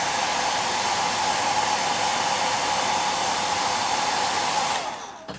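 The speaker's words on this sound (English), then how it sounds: "I just need the hairdryer out" A hair dryer blows with a constant, even whoosh close up, then cuts off abruptly at the end.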